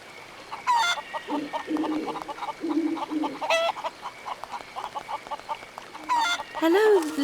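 Chickens cluck and squawk repeatedly in the video game Haunted, a close, busy farmyard chatter with a brief crowing call near the end.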